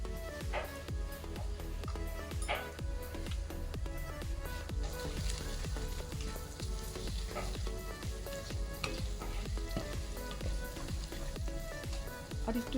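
Rice and lentils frying with turmeric, cumin and coriander powder and salt for bhuna khichuri, a steady dense sizzle with continual crackle and small spoon clinks, moderately quiet and unbroken throughout.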